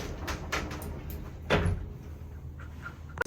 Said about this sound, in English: if you just press this wall here, the door automatically closes.